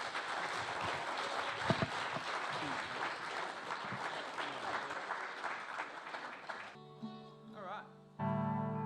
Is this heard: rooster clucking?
no